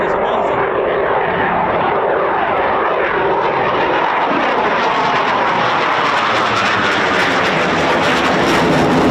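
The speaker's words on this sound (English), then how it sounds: "the Typhoon can just pull up and accelerate vertically" A Eurofighter Typhoon FGR4 fighter jet takes off and climbs from RAF Coningsby, its engines giving a loud, sustained roar that rises and sweeps in pitch as it pulls away, filling the whole stretch without a break.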